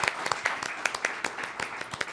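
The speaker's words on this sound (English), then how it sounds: "That was a hearty applause." Applause from a crowd at a neighborhood association mayoral candidate forum, scattered, fairly light clapping with distinct individual claps standing out, brief and moderately near.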